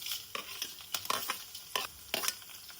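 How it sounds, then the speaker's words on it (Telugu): Dried red chillies fry in a pan for a hotel-style ginger chutney, giving a soft, steady sizzle broken by several sharp stirring scrapes and light pan clatters at close range, with no voices. "ఇప్పుడు మరికొద్దిసేపు వేయించుకుందాం."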